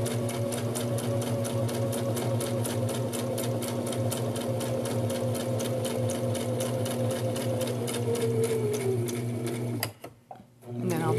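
A sewing machine stitches a half inch seam in fabric, its rapid, even needle clatter continuing steadily up close before stopping abruptly near the end.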